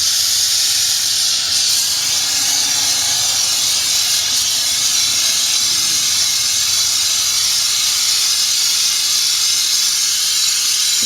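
Gold refining material from ceramic CPUs, lightly heated until dry, gives off a steady, loud hiss of steam that runs unbroken throughout, with no talk over it.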